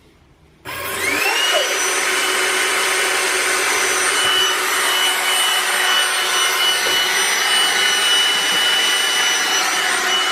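Trifo Emma robot vacuum starts up and runs at maximum suction, a loud, steady high-pitched whine and airy roar that holds constant after the switch-on, close and alone.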